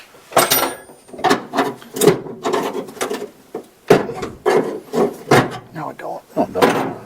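A metal tray being pulled out of the engine bay of a Chevrolet C10 pickup, giving close, repeated wooden-sounding clunks, scrapes and rubbing bumps in an uneven rhythm while people talk nearby.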